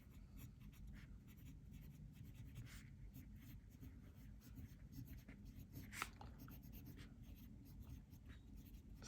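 A Platinum Preppy fountain pen moves across paper in soft, close scratching strokes, a faint continuous rustle with small irregular ticks as the nib glides, heard alone without talk.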